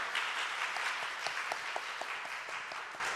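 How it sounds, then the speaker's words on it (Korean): A church congregation at an all-member devotional sharing event gives a big round of applause to welcome a young adult presenter, dense steady clapping with sharp individual claps standing out, fairly quiet and continuous throughout. "큰 박수로 환영해 주시기 바랍니다."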